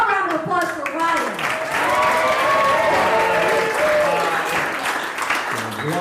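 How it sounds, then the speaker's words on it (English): A crowd at a storytelling game show in Big Bear Lake applauds steadily for several seconds, loud and sustained, with scattered cheers and voices mixed into the clapping. "we'll go around with applause for Ryan"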